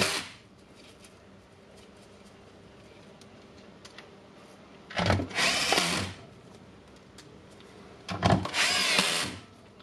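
A power screwdriver drives screws into the handle of an old Hitachi DH24PC3 hammer drill during reassembly, with two loud whirring bursts of about a second each after quiet handling noise.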